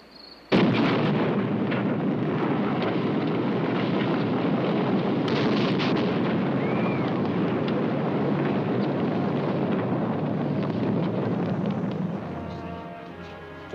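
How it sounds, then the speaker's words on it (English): The world's first atomic weapon detonates in the New Mexico desert: a sudden loud blast swells into a long, sustained roaring rumble that fades slowly after about twelve seconds. "scientists anxiously await the detonation of the world's first atomic weapon"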